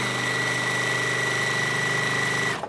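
A semi-industrial, non-computerized sewing machine runs continuously at steady speed, a loud mechanical hum with rapid rhythmic needle ticking, then stops abruptly near the end.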